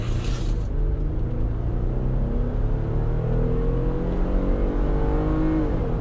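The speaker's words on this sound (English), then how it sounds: "So I'm going to do like a quick little launch here." A 2019 Jeep Wrangler JL with a tuned engine calibration makes a quick launch, its engine note rising loud and steady as it accelerates, with the pitch climbing and dropping at a shift near the end.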